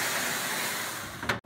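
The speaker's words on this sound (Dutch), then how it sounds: "Voor wat extra stoom." Water poured onto the hot bottom of an oven while baking sourdough wholemeal bread sizzles into steam, a steady, close hiss lasting just over a second before cutting off abruptly.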